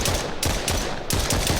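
Rapid automatic gunfire from a player firing at a stegosaurus in the survival game Pangea Survival, in loud sustained bursts with two brief pauses between them and no talk.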